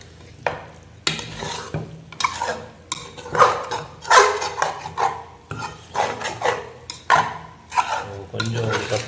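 One kilogram of mutton being stirred with masala in a pot for a seven-person biryani: repeated close scraping and rubbing strokes of a utensil against the metal, loud and rhythmic, with a faint sizzle and no talk.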